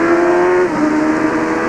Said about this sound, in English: Now listen to that engine scream.